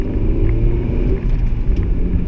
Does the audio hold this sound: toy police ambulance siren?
no